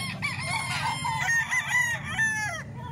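Roosters and chickens at a Saturday fowl market in Baliwag, several crows and clucks overlapping in quick succession over a low murmur of crowd noise, fairly close and clear.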